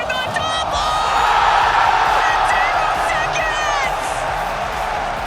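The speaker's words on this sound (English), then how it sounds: "Crowd erupting" A large arena crowd at the Rocket League World Championship 2024 roars and cheers loudly and continuously, with whoops and shouts, while a commentator talks excitedly over it.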